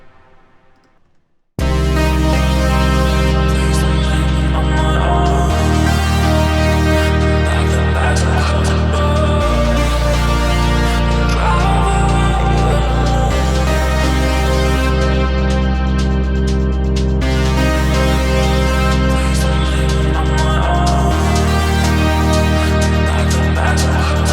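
A big processed lead synth in a finished electronic mix, with sustained bright chords and a deep bass, playing loud and steady for over twenty seconds after a brief quiet opening, with no talking.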